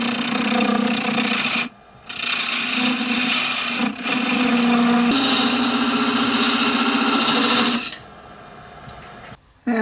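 One end of a plumb bob piece is turned down to 9/16 inch on a lathe, giving a continuous rasping, rubbing cut with a steady hum beneath it, broken by two brief pauses and a sudden drop near the end.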